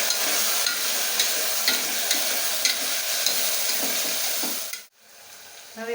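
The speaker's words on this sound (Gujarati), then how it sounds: "હવે આ છે આપણે બટેટું ખાઈ હતું એ નાખશું, 2 મિનિટ આપણે સાતરી લઈશું" Diced potato sautéing in a pan for farali khichdi, a steady close sizzle and fry with light stirring scrapes, then a brief drop near the end before the frying picks up again.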